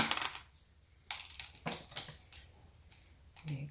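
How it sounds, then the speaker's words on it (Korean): Scissors snip the roots of an Ebony succulent while it is being repotted. Several sharp, close clicks and cuts come at irregular intervals with quiet gaps between them. "뿌리 정리할 때 가위로 예쁘게 정리해주는 게 좋겠죠?"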